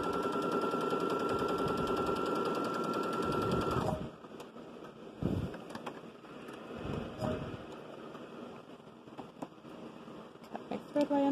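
A sewing machine stitching the neckline of a pinafore dress hums in a steady, close whir for about four seconds, then stops, followed by fabric handling, clicks and brief rustles.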